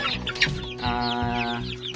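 Large heritage-breed free-range chickens about a month old cluck and squawk close by, several short calls overlapping in a busy farmyard chorus with no talking.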